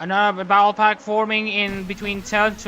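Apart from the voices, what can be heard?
None of the usual background noises is heard.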